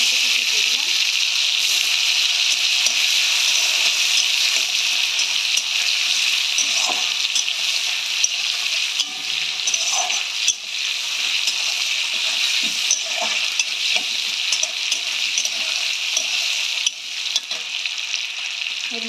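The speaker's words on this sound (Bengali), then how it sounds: "এবার আমি টমেটো কুচি দিয়ে দিলাম।" Chopped tomato frying in a pan for a green banana kofta curry, a steady bright sizzle that runs throughout with small stirring clinks.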